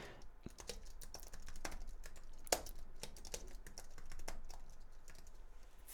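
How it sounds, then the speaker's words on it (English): Rapid, uneven keystrokes on a computer keyboard, close and fairly loud, with sharp clacks in quick irregular bursts and one harder smash midway, and no talking. "I keep smashing my keyboard"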